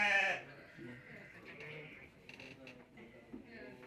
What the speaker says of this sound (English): So now we are at the sheep.